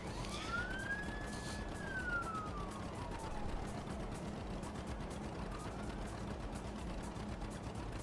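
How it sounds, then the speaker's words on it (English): A police siren wails once in a rising and falling sweep over steady traffic rumble, fading into the distance partway through. "definitely more sirens"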